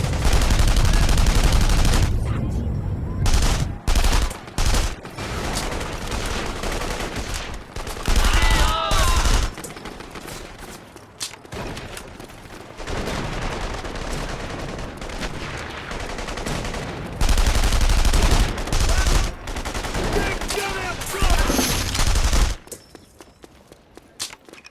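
Heavy gunfire rages in The Saboteur game, with dense fusillades and machine-gun bursts rattling loud and close, broken by brief lulls and footsteps before the shooting resumes and finally dies away.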